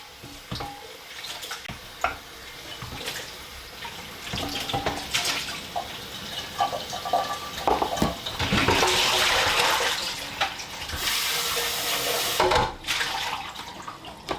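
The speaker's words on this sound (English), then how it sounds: "I gotta wash the blender and the strainer." Tap water runs steadily as a blender and strainer are washed in a kitchen sink, with splashing, rinsing swells and occasional clinks of the parts, getting louder and fuller toward the end.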